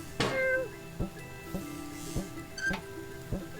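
A cat meows in the robot puzzle game Machinarium, a short cry near the start and another later, set against sparse metallic clinks and a low mechanical hum.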